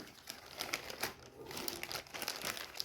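Thin plastic packaging crinkles and rustles in uneven bursts close by while insulin is packed into a bag for travel, with no voices present.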